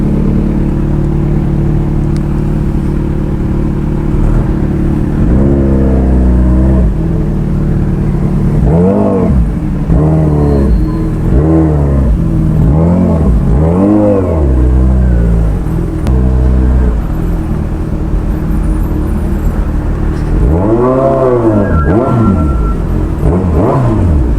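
Steady rumble of road traffic and a motorcycle engine while riding through Mamatid, Cabuyao, Laguna, with harmonic engine tones rising and falling as the bike accelerates, continuous and fairly loud throughout.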